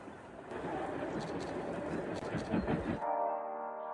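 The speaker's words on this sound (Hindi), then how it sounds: "ये हैरी पॉटर वाली ट्रेन है।" A train in London rumbles steadily with broad, dense noise for about three seconds, then a loud sustained tonal horn blast sounds close by to the end.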